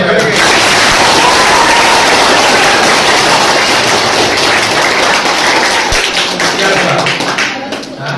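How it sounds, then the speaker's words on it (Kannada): An audience at a Kannada literary forum gathering breaks into loud, continuous clapping that fills the room with dense, close claps, gradually thinning near the end. "ಹೊಡಿಬೇಕು ಚಪ್ಪಾಳೆ"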